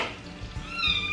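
A kitten gives a short, high meow close by during cooking as beef broth is added, with faint background noise and a brief watery sound.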